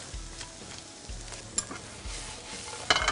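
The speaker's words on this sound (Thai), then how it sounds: "นั้นเราก็คั่วอย่างนี้ครับ" Pork belly stir-roasting in a hot pan, a steady crackling fry with scraping stir strokes near the end, close and moderately loud, no talk.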